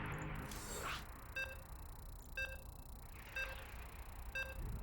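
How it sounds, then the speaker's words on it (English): Beeps in a StarCraft 2 tournament game lobby: four short, identical electronic tones spaced about a second apart, faint and evenly timed over a low background hum. "You can hear the beeps."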